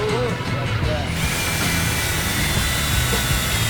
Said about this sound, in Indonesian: Setelan sama-sama kita set di speed 2 ya, di mode drill.